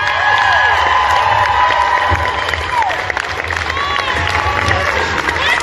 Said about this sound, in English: you guys have been applauding a lot